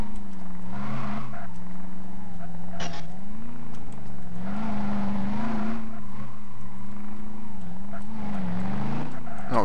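A truck engine in the video game Tricky Truck drones while coasting, a loud continuous hum whose pitch wavers up and down with occasional brief squeals, alone without talk.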